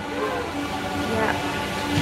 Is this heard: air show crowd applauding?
no